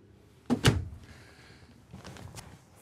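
A storage drawer in a Thor Magnitude 34SV RV opens or closes with a couple of close, sharp thuds and rattles, followed by a quieter sliding clatter, without speech.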